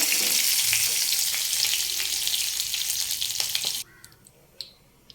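Mustard seeds and curry leaves sizzle in hot oil for kurukku kalan, giving a close, steady hiss with popping crackles that stops abruptly near the end.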